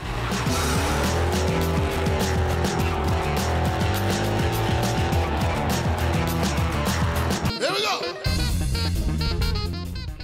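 A big 7.5-litre V8 muscle car engine with a 4-speed gearbox roars loudly and revs up as the car pulls away in first gear, with a steady rising drone broken by a brief gear-change dip.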